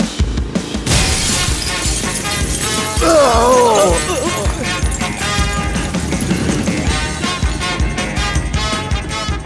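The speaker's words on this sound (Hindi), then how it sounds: "दरवाजे से भी आ सकता था ना, वो कांच को क्यों तोड़वाया?" Glass shatters as someone bursts through a pane in a dramatic entrance, a loud sharp crash near the start that sits within a dense, busy mix of music and effects.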